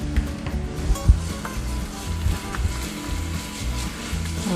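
Garlic sizzles in olive oil while being stirred in a pan for stir-fried pancit noodles, a soft steady frying hiss broken by a few clanks and knocks of the utensil.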